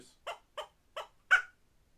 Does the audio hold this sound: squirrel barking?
yes